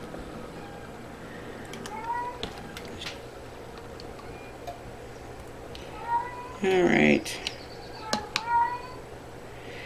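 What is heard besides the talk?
cat meowing, crying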